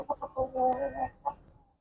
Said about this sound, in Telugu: చూడండి కోడి కూడా హుషారుగా ఉంది